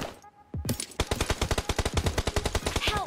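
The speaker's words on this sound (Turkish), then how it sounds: "Adamlar çok iyi sıkıyorlar abi." Rapid automatic gunfire during an online shooter match, a long steady run of sharp, evenly spaced shots after a brief lull and an opening bang.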